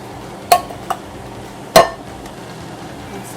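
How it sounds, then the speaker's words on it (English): Utensil stirring curry with peas in a pan, giving two sharp scrapes and knocks against the pan plus a lighter tap between them, close up over a quiet background. "And stir that around again."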